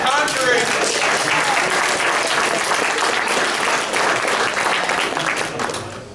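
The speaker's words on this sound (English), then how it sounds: "Give a round of applause for Conjuring." Loud, dense applause from a packed, noisy room at a comedic alcohol appreciation event, many hands clapping steadily for about six seconds with cheering voices mixed in, tapering slightly at the end.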